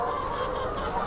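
Young laying hens about 23 weeks old on an organic farm, clucking and calling in a dense, continuous flock chorus that sounds close and steady throughout, with no talk.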